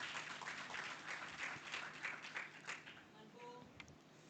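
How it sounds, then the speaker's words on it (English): Seminar audience giving a round of applause, a steady burst of many hands clapping that holds for about three seconds, then thins out into scattered claps and fades. "Please give a round of applause."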